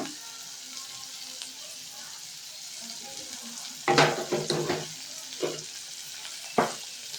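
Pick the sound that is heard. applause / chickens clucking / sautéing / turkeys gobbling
sautéing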